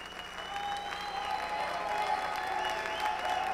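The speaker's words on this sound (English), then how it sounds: "Let's give her a nice round of applause." Audience applause at a Miss Continental pageant, a steady wash of clapping from a large crowd that holds at an even level throughout, with faint voices mixed in.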